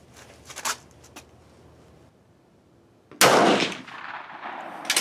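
A K31 rifle fires at a shooting range: a faint crack early on, then one loud, sharp close report with a lingering echo, and another crack at the very end.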